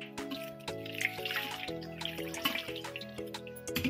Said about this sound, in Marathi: आणि हे आता पाणी बघा खाली नितरतंय